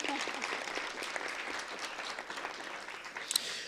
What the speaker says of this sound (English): let's have a round of applause for the Northeast Bradford Panthers